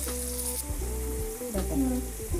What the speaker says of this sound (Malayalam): അപ്പോൾ ഒരു സൈഡ് ഫ്രൈ ആയിട്ടുണ്ട്, നമുക്ക് മറിച്ചിട്ട് കൊടുക്കാം.